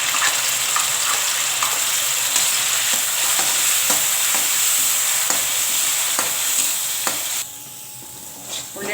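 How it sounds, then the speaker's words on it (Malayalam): Onion paste sautés in hot oil in a pan while a Kadai mushroom masala is prepared. Steady sizzling runs under regular scraping stir strokes, then the frying drops to a quieter sizzle near the end. "എണ്ണ ചൂടായിട്ടുണ്ട്. നമുക്ക് അതിനകത്തോട്ട് ഉള്ളിയുടെ പേസ്റ്റ് വഴറ്റാനാണ്."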